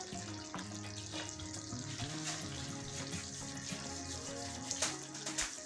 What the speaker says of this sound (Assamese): এয়া আমাৰ গ্ৰেভিখিনি ধুনীয়াকৈ উতলি আছে